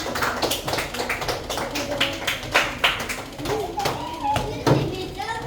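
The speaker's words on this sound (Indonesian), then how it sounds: "tepuk tangan." A class of schoolchildren claps hands in a classroom after a group finishes presenting. Uneven, fairly close bursts of claps repeat over several seconds while children chatter throughout.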